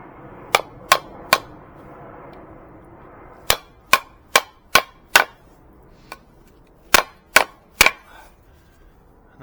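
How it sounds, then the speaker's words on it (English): Sharp hammer taps on a piece of wood, driving it into a brick wall, strike in clusters, three quick hits, then a run of five, then three more, each a crisp knock on wood against a hard surface. "I used a bit of wood with a hammer just to get these in"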